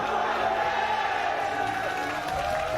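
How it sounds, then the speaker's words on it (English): A live audience at a StarCraft II grand final, GSL 2019 Season 2, cheers and whoops in a steady dense roar of crowd noise throughout. "bigger cheer in the audience for Dark"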